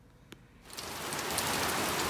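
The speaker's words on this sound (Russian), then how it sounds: "Сейчас посмотрите, вот уже ливень такой." A heavy downpour of rain in Serbia starts suddenly and swells into a loud, steady hiss that fills the rest of the moment, with no voices.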